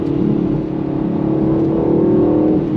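A 2025 Aston Martin Vantage V8 drones steadily and loudly up close, its engine note rising slightly toward the end. Distinct exhaust pops are not clearly separated from the continuous roar.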